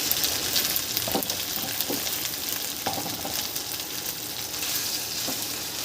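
Finely chopped potatoes fry in a pan with turmeric, chillies and salt, giving a steady close crackling sizzle with occasional stirring scrapes and taps.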